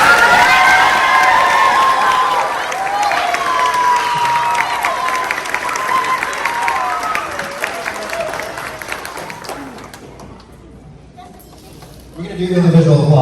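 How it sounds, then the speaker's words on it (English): A school audience claps and cheers loudly for teachers, with high shouting voices over the applause that gradually fades, then a voice begins speaking near the end. "So let's give our teachers a round of applause."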